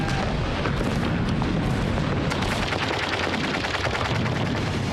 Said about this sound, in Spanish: Las ametralladoras germanas acribillaron a la 1ª División de Infantería mientras se adentraba en la playa.